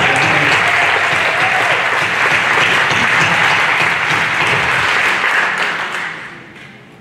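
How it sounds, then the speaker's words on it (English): A church congregation claps hands at an Easter service, a loud, sustained burst of applause that holds steady for several seconds before thinning out and fading near the end. "so come on and clap your hands"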